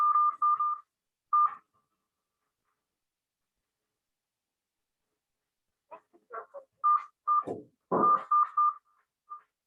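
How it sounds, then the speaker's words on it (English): Phone keypad tones sound as a meeting ID is entered, a few short beeps at the start, then a long pause, then a quicker cluster of beeps mixed with brief clicks, all clear and close. "I'm going to enter the meeting ID from the phone."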